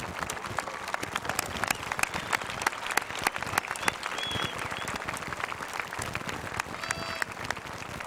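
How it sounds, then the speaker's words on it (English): Sustained applause from a graduation ceremony audience in a large hall, dense even clapping from many hands continuing steadily throughout. "Let's give them a round of applause"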